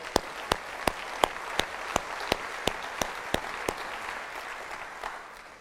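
Applause at a State of the City address in Arlington, Texas: a sparse, steady run of evenly spaced, distinct claps over a soft room murmur, fading at the end.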